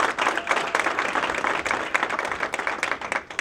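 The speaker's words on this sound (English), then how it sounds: "she deserves another round of applause" A crowd claps in sustained applause at a Dominican Republic Independence celebration, dense and even from start to finish with no voices.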